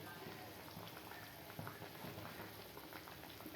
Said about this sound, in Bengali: এই তরকারিটা ফুটছে, দেখতে পাচ্ছ তোমরা, আস্তে আস্তে ফুটছে